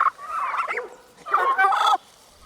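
Turkeys on a central Illinois farm gobble loudly and close by in two bursts of warbling calls separated by a short pause.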